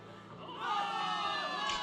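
A crowd of soldiers in the video game Zenless Zone Zero breaks into cheering after a short stretch of quieter murmur, with many overlapping voices shouting together at moderate loudness.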